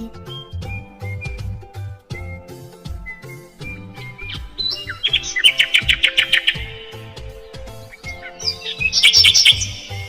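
Bright, rapid nightingale trills and chirps burst out in two loud phrases over a steady musical background, with quieter calls scattered throughout.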